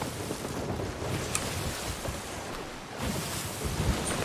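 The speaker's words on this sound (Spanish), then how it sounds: "El mar está embravecido." Rough, stormy sea in a pirate game: steady wind and crashing surf around a sailing ship, a continuous broad roar with occasional louder wave surges, moderately loud and without speech.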